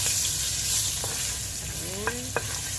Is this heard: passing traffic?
no